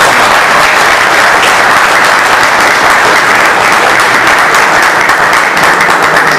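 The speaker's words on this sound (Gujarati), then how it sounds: "જોરદાર તાળી" An audience at a bhajan and satsang event claps long and hard, loud continuous applause filling the hall without a break.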